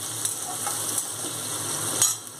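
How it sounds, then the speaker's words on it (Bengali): Chopped onions sizzle and crackle in hot oil in a pan, with a steady close frying hiss throughout and faint stirring. "এবার আমি পেঁয়াজ কুচুটা দিয়ে দিচ্ছি। পেঁয়াজটা ব্রাউন করে আমি ভেজে নেব"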